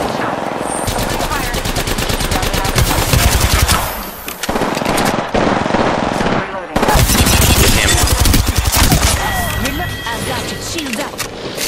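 Loud, sustained automatic gunfire in a video game shootout, long rattling bursts broken by short pauses, up close and dominating, with players talking over it.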